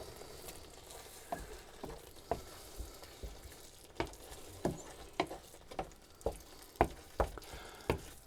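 A spoon works through sausage casserole in a pan, giving a run of soft, evenly spaced scraping strokes over a faint, steady sizzle, close by and with no voices.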